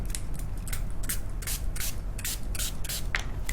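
A homemade aroma hand sanitizer made with essential oils is sprayed from a pump bottle, giving a rapid series of about ten short, sharp hissing spritzes in an irregular rhythm, close and clear with no talk over them.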